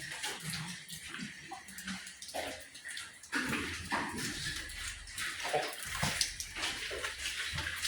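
Water pours and drips inside the No. 9 coal mine in Lansford, Pennsylvania, a continuous splashing rush with irregular surges and spatters, close and fairly loud.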